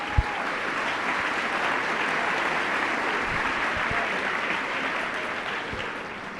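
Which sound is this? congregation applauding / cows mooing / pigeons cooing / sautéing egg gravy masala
congregation applauding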